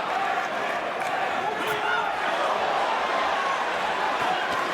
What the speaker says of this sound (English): This crowd is loving this title fight already.